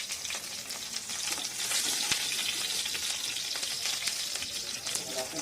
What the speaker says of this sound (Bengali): ফুলকপিটা আমি ভাজবো, হলুদ দেবো না এখন, আলুও দেবো না।